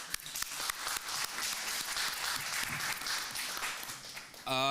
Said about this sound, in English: So let's just give them one round of applause.